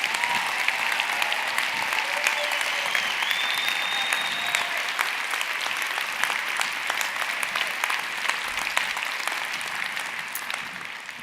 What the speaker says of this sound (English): can we give a round of applause to Ashley and Leland and Danielle for sharing their